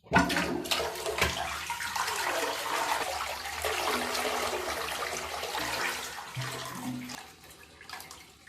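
A rimless toilet with a vortex tornado flush system flushing: a sudden rush of water that swirls and gurgles steadily, then tapers into trickling refill sounds, close and fairly loud.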